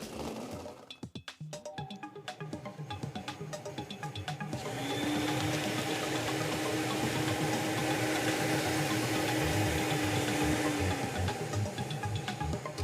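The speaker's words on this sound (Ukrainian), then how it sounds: "Тоді ми вмикаємо цей лототрон." A lottery ball drawing machine for a Loto Zabava draw starts up with clattering balls, then settles into a continuous whirring rumble as balls tumble and click inside, fairly close and steady with no talk.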